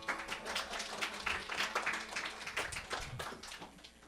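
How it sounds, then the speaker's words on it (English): Applause from an audience after young performers' tabla recital, a short, fairly faint burst of mixed clapping that holds steady and tapers slightly toward the end. "How about one more round of applause for our young performers?"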